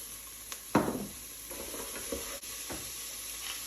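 Carrots and other vegetables sizzle steadily in a hot pan in a food truck test kitchen, with a sharp scrape of stirring near the start and a few softer stirs afterward over continuous frying hiss.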